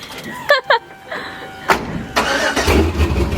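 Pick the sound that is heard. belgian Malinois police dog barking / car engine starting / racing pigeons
car engine starting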